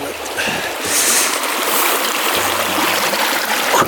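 Glacier meltwater stream near Jasper in western Canada, rushing and splashing steadily up close, loud and continuous throughout.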